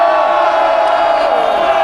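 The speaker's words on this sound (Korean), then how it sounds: "자, 함성 3초!" A large crowd at an outdoor political rally roaring and shouting together in one sustained, loud cheer.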